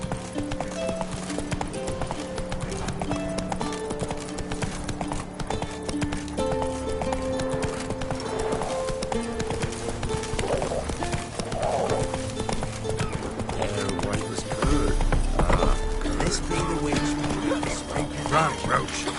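Roach, the horse in The Witcher, gallops with steady rhythmic hoofbeats clip-clopping over a game soundtrack, with an occasional whinny and a louder thump of movement near the end.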